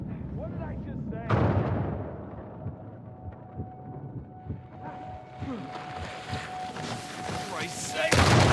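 An explosion in Uncharted 4, a sudden loud blast followed by rumbling debris and scattered game combat noise, with a voice talking over the top.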